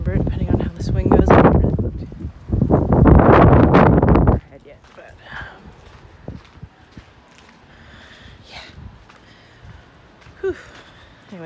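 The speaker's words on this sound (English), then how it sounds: "probably couldn't even hear half of it because it's so windy" Strong outdoor wind buffets the microphone with heavy roaring rumble for the first four seconds, then drops to a lighter gusty rustle with occasional bumps.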